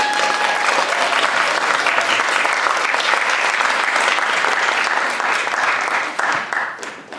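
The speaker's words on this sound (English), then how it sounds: "I'd like to give you a big round of applause." An audience at a design panel discussion at the Boston Arts Academy breaks into sustained, loud applause, a thick wash of clapping that holds steady before tapering off at the close.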